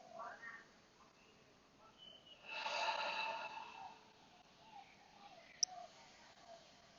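Slow, deep yoga breaths: soft airy inhales and a longer, fuller exhale in a quiet room, faint and close, with a small click near the end.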